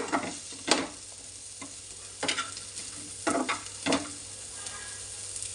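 Raw banana pieces stir-frying in a little oil, a soft background sizzle punctuated by a handful of distinct spatula scrapes and knocks at irregular intervals, with no talk.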